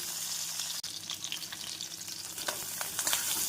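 Curry leaves and onion fry in hot oil for brinjal rice, giving a steady close sizzle with light crackles and a faint stir scrape.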